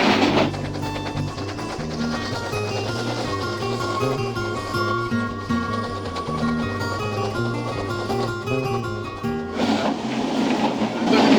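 A steam train rumbles and clatters steadily past in Sussex, with rhythmic wheel clicks and hissing, loud and close throughout.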